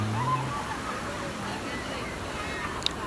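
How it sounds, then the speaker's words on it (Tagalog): Large surf-sized waves roll in steadily at a beach on Boracay, a continuous broad wash of water with scattered faint voices in the background. "tsaka yung alon guys, ang lalaki, maganda surfingan yung alon."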